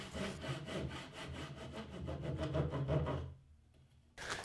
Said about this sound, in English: The tenons need to be reduced in width slightly to produce the haunches, but this is a simple job with a handsaw.